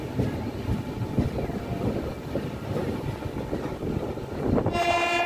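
A train runs through Nellore South station without stopping on the Chennai Central to Vijayawada route, a steady rumble of wheels and carriages up close, with a loud horn sounding near the end.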